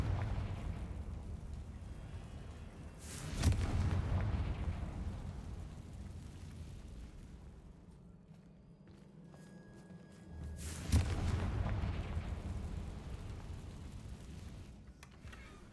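Confringo spell explosions go off in Hogwarts Legacy, two deep booming blasts several seconds apart, each followed by a rumbling decay over quiet ambient background.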